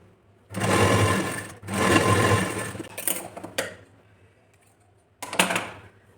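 A sewing machine runs in two long bursts, then a few short ones, stitching along the folded edge of a princess-cut blouse, a close, rapid whirring stitch rhythm separated by quiet pauses.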